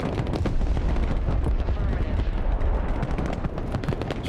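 In the military strategy game Broken Arrow, a dropped bomb goes off as a heavy, rumbling blast with dense crackling debris, sustained and loud throughout, with voices faintly mixed in.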